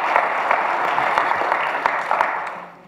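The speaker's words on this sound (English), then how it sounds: "Come on, give the Lord a hand clap." A church congregation claps for the Lord during a Sunday service, a dense, steady wash of many hands applauding together for a few seconds before fading out at the end.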